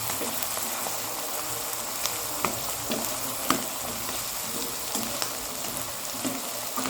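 Papaya flowers stir-frying in a pan, a dense continuous sizzle with occasional clicks and scrapes from stirring, close and steady with no talking.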